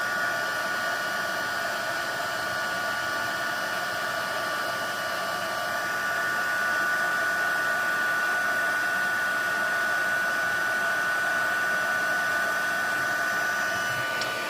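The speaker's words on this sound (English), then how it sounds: "grab your heat tool and start heating that up. And then you just heat it up until the text gets shiny" Heat embossing tool blowing hot air over embossed text on a die-cut paper sentiment, a steady close whir with a faint high whine, running continuously without pause.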